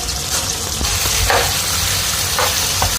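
Carrots and potatoes fry in a pan with salt, red chillies, cumin and garlic, giving a loud, continuous close sizzle with a few scraping stirs.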